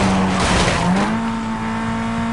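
A car spins out with squealing tires in the Need for Speed Most Wanted racing game, a loud, close engine roar with a steady pitched tire squeal that rises and holds, and no talk.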